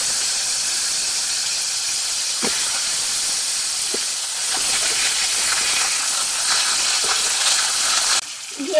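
Raw mango pieces drop into hot mustard oil tempered with dried chillies and mustard seeds, raising a loud, continuous hissing sizzle that runs steadily throughout, alone with no voices.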